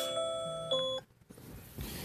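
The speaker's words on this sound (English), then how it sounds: "That's my alarm going off." An electronic alarm tone chimes with steady pitched notes for about a second, then cuts off, leaving quiet room noise.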